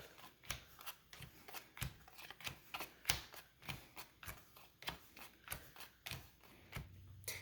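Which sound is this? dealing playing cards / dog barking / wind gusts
dealing playing cards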